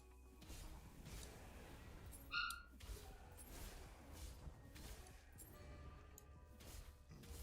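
A dog barks and yips indoors, faint and somewhat distant, a few short scattered barks with a whimpering note over low room noise.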